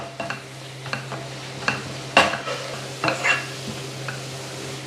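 Sliced onions with salt sizzle steadily in a hot pan while a spatula scrapes and stirs them in several sharp bursts, close by and with no talking.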